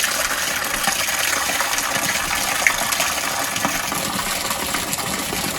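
Water flowing down a big drop as it fills a koi pond, a loud, steady rushing roar throughout with no voices.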